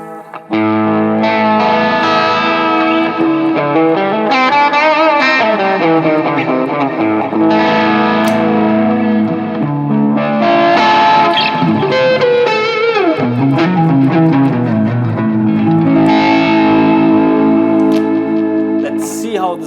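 Overdriven electric guitar through a boosted Plexi-style amp with BOSS GX-700 rack effects, loud sustained chords and melodic lines with heavy gain and echo, no voices.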